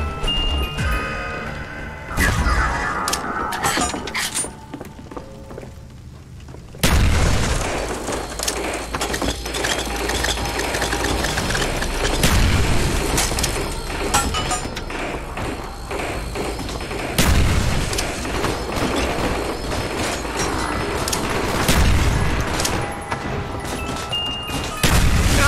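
Ray gun firing at zombies in Call of Duty Black Ops 1 on the Kino Der Toten map, loud repeated blasts and thuds in rapid bursts with clinks and crashes, a heavy barrage building up again after a brief lull.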